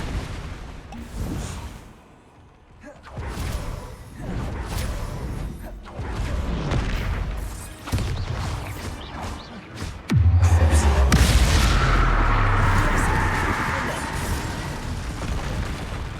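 A Bombarda explosion spell in Hogwarts Legacy goes off with a sudden heavy boom and then a long, loud rumbling tail. Busy game sounds and effects play before it.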